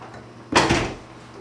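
A bank's door opens as a customer walks in, a single close, sharp clunk and rattle lasting under half a second against a quiet room.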